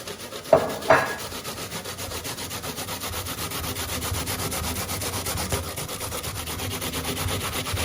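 Apples or similar food rubbed against a kitchen grater while cooking spicy ketchup and curry, a steady scraping rasp with two sharper strokes near the start, close and continuous with no talk.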